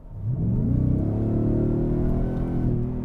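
A supercharged V8 in a 2023 Ford Raptor R pickup revs up from idle and holds a loud, rising, sustained engine roar with a deep rumbling note for about three seconds, heard close with no talking.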